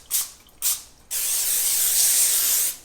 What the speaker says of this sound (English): You want to take some cooking spray and just very lightly Spray your aluminum foil.